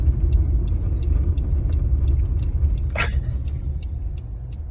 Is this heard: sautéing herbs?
no